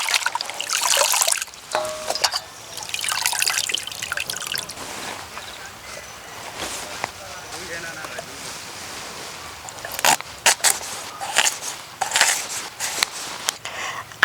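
Small fish being washed by hand in a bowl, with the water changed several times: irregular splashing, dripping and pouring bursts at close range, separated by quieter gaps.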